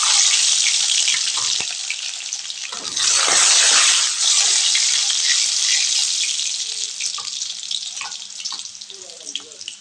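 Garlic cloves sizzle in hot oil with mustard seeds, a loud steady hiss and crackle of frying that swells for a moment partway through and carries on throughout.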